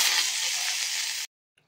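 Curry leaves hit hot oil with mustard seeds, urad dal and a dried red chilli in a tempering for ginger chutney, giving a loud, bright, steady sizzle that cuts off abruptly after about a second.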